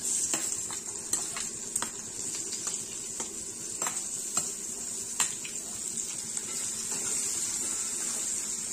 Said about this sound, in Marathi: तो कांदा छान असा आपल्याला तळून घ्यायचा आहे.